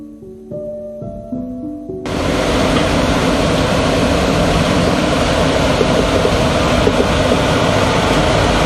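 A few rising electronic tones give way to a loud, steady rushing roar of a passenger train passing close by, continuous to the end.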